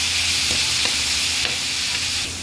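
Chicken for pancit frying in a pan: a loud, steady, dense sizzle that runs unbroken throughout, with a few faint stirring scrapes and no talking.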